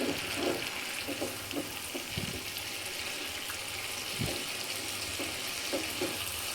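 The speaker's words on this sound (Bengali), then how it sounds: "অল্প অল্প করে পানি দেবো।" Water is added little by little to chicken roast cooking in a pan, a continuous close rushing hiss with faint thumps and clinks scattered through it, with no voices.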